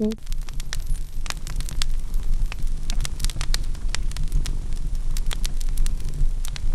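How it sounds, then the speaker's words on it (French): A recorded fireplace fire crackles in an art installation room, dense sharp pops and snaps scattered over a steady low rumble, fairly loud and continuous throughout. "un son de feu de cheminée, parce que dans la salle, il y a une cheminée"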